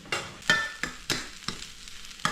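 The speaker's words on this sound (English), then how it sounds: "now in goes our first batch of rice" A batch of rice for nasi goreng, Indonesian fried rice, sizzles in a hot pan at home, with repeated scraping stirs every half second or so over a steady frying crackle, close and moderately loud.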